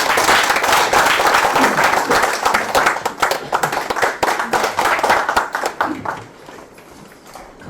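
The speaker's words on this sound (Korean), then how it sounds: "박수로 맞아주십시오" Applause at a Korean poetry book concert, loud and dense, greeting the next speaker, then thinning out and fading over the last couple of seconds.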